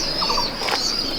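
A brief flutter of pigeon wings as young Dobaz Abluk pigeons are passed from hand to hand, a soft close flapping over steady background hiss.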